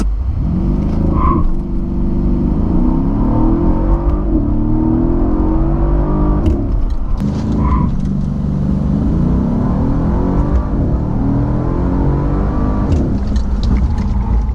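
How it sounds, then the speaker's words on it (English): Mercedes CL63 AMG V8 on older tires accelerating hard, a loud, close-up engine roar climbing in pitch through repeated gear changes, each shift marked by a brief dip before the rise resumes. "why don't we find out for ourselves how quickly this thing can accelerate"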